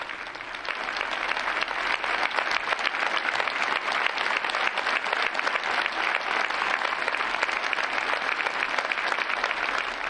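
Strong, steady applause from a gathered crowd after a minute of silence held in memory of a person, a dense wash of many hands clapping that starts up and then holds evenly for about ten seconds.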